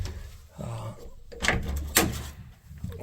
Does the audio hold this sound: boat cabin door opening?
yes